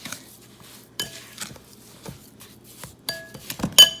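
A utensil stirs carrot cake batter by hand in a bowl, knocking against the sides with sporadic clinks and scrapes in a quiet, uneven rhythm.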